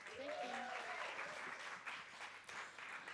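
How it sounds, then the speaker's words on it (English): A pub crowd at a live music night applauds as a performer takes the stage, a short burst of dense clapping with cheering voices rising over it. "welcome to the stage with a sensational round of applause"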